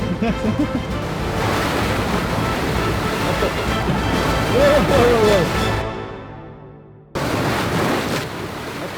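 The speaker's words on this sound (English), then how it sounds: "oh wait, the waves are coming." Loud rushing surf of ocean waves at Nusa Penida with heavy wind buffeting the microphone, a voice faintly audible, then the roar briefly drops and returns.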